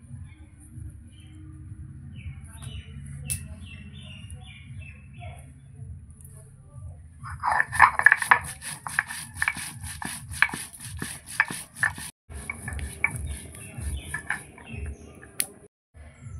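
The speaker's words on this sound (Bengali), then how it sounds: "প্রথমে বাটবো আমি গোটা জিরে" Whole cumin seeds ground by hand on a grinding stone outdoors, heard as repeated close rhythmic scraping and knocking strokes, with a voice talking at times and chickens clucking in the background.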